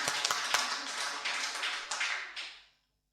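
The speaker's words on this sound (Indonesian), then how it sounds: "Mari kita beri tepuk tangan dulu buat ketiga narasumber pagi hari ini." Audience applause at a law faculty seminar, a dense burst of many hands clapping for the three speakers that fades out after a couple of seconds.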